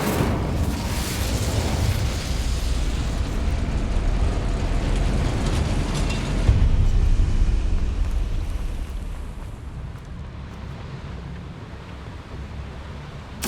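Incendio fire spell cast in Hogwarts Legacy, a loud roaring whoosh of flame with a deep rumbling burst that swells, stays dense for several seconds, then eases into a softer lingering rush.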